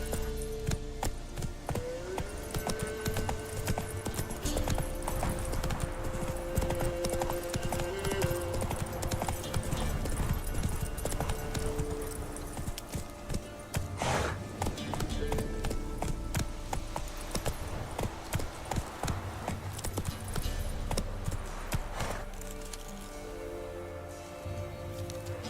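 Roach the horse galloping in The Witcher 3, steady rapid clip-clop hoofbeats throughout with a short neigh, game music and ambience underneath, and a brief spoken urging.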